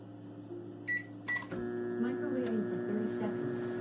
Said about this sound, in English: start microwave for 30 seconds.